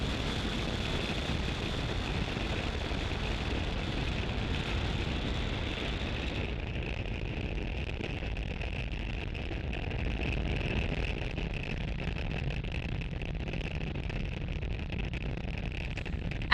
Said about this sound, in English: Falcon 9 has successfully lifted off from Space Launch Complex 40 at Cape Canaveral, Florida